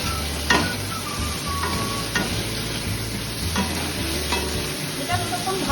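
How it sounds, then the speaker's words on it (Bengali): Taro pieces frying with salt and turmeric in a pan, a dense continuous sizzle under repeated close scrapes and clinks of a stirring spatula, with a low hum running beneath. "কচুটা ভাজা হচ্ছে"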